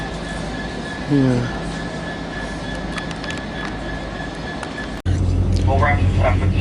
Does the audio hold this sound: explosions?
no